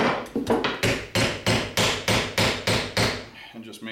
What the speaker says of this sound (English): I'll go through one more time with the mallet and the hammer handle.